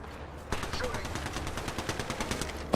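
Rapid automatic gunfire from a video game bursts in after a brief quiet start, a dense run of sharp repeated shots continuing to the end at moderate loudness.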